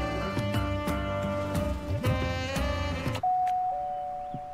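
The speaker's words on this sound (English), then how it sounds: "Before being cock-blocked by the doorbell." Doorbell ringing in an anime, a clear sustained chime tone that cuts in after a stretch of layered background music and rings on alone near the end.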